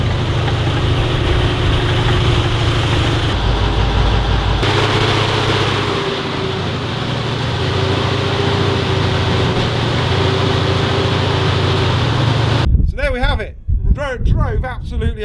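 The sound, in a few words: Sherman tank engine running and driving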